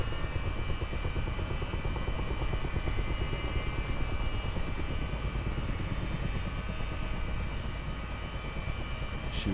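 Chinook helicopter powering up in Microsoft Flight Simulator 2024, a loud, steady, dense rotor and turbine drone with rapid rhythmic blade chop throughout, no talk.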